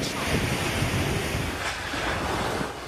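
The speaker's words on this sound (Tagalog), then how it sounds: "Ganyan kalakas na hangin at buhos ng ulan ang gumising sa mga residente ng Verac, Catanduanes kanina umaga." Strong super typhoon winds and pounding surf lash coastal Virac, Catanduanes in the Philippines under storm signal number 5, a loud, unbroken roar of wind and crashing waves filling the whole stretch with no voices.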